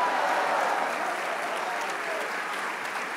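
A church congregation bursts into loud, sustained applause during a worship service, a thick continuous roar of clapping filling the room at steady volume.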